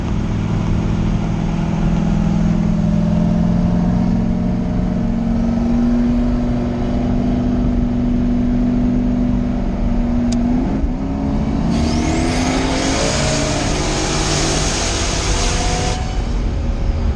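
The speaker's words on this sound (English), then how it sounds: "Got some racing going on right now" A Chevstang and a GT500 meet in a roll race, heard as a loud steady engine roar that builds in pitch as the cars accelerate, with a sharp rise near the end.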